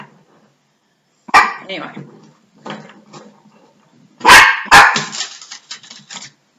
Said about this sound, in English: rather sprightly dogs around here. Oh, and they're going to make noise.